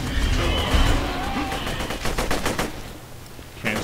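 Rapid machine-gun bursts and rocket fire in Borderlands 2 rattle loudly in quick repeated volleys, a steady rhythm of close shots ending in a sharp blast.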